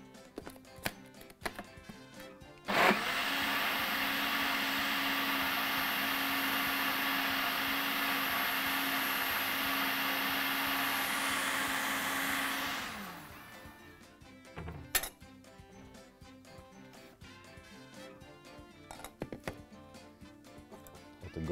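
An electric blender whirs steadily for about ten seconds while mixing a condensed milk cocktail with a little added water, then winds down. Quieter kitchen clatter comes before and after.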